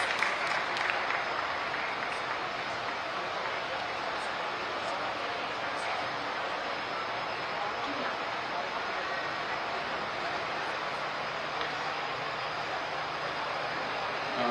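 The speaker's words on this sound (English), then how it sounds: "Can we please have a huge round of applause?" Sustained audience applause at the closing ceremony of the International Purple Fest in Goa, celebrating the launch of Purple Riyaz; dense, steady clapping from a large crowd continues without a break.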